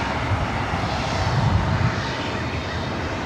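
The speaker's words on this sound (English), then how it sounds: "This flight heading to SFO, Alaska SkyWest, flight 3329 to the E175 LR." Alaska SkyWest Embraer E175 LR jet departing LAX for SFO, a steady broadband engine roar at moderate distance, fairly faint and continuous with no talk over it.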